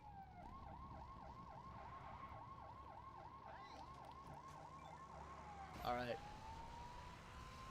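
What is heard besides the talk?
police car siren in video game LEGO City Undercover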